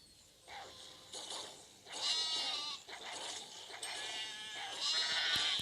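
Several sheep bleat repeatedly, overlapping calls rising and falling at close range, with no talking.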